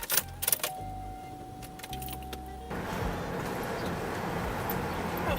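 Car keys jingle and clink in a few quick bursts inside a parked car, followed by a door and the engine starting into a steady hum.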